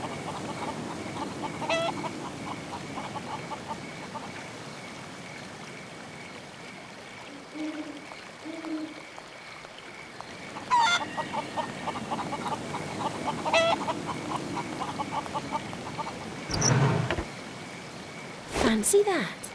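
A rooster clucks in the Haunted video game, giving short repeated clucks over a steady background, with a voice talking at times.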